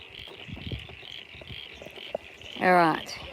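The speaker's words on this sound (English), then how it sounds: "You can hear the frogs." Frogs croaking near an outdoor gold trommel on a sunny day, faint scattered calls under a steady background hum, ending in one loud, rapid pulsed croak.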